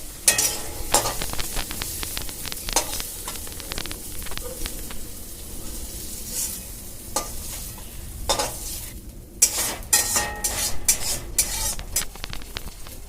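Neem leaves and brinjal sizzling in a hot pan, with steady frying crackle and repeated sharp clinks and scrapes of a spatula stirring against the metal, close and continuous without talk.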